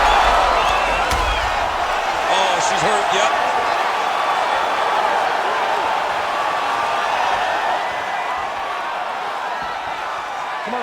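Arena crowd at a UFC bout between Zhang Weili and Holly McCann, a steady, loud wash of roaring and murmuring spectators that runs through the whole stretch while commentators talk over it.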